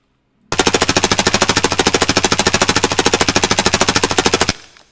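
An MP5 submachine gun in the shooter game Escape from Tarkov fires one long, unbroken full-auto burst of rapid, evenly spaced shots lasting about four seconds, then stops abruptly with a short fading tail.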